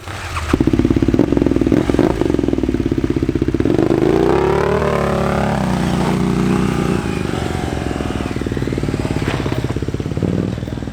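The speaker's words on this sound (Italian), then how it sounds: "C'è anche il Gio, sto guidando la sua moto" A KTM 950 Adventure rally motorcycle engine (2003 Dakar bike) runs steadily and loud throughout, its pitch rising and falling as the rider accelerates, with some mechanical clatter.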